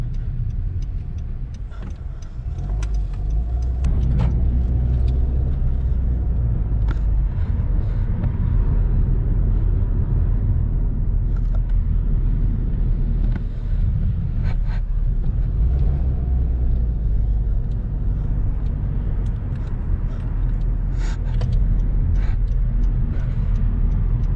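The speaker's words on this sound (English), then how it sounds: "Definitely the traffic in this street right here is heavy" Heavy city street traffic rumbles steadily throughout, with continuous low engine drone from passing cars and vehicles, occasional sharper ticks and an air-brake-like hiss, close and loud with no talk.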